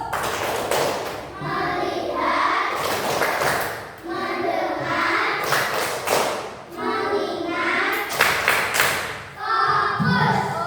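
Children in a classroom perform a rhythmic focus clap, their repeated bursts of clapping and thumping mixed with chanted children's voices, loud and close in steady cycles.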